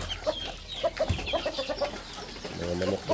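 Several backyard chickens cluck in short, evenly spaced bursts close by, with a faint voice briefly underneath toward the end.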